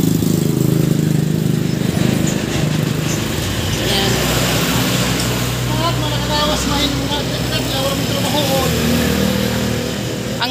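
A motorcycle engine runs steadily outdoors in Eastern Samar, a continuous low drone with a higher whine, mixed with crowd chatter and talk throughout.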